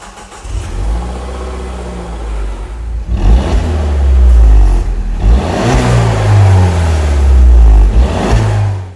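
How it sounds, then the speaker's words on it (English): A Citroen DS3 Sport Plus with a 1.6 litre engine and twin exhaust pipes revs up from idle in repeated surging blips, its deep exhaust note rising and falling close by with no talking. "I think exhaust note is going to be quite important, so we're going to go ahead and test out the DS3s now."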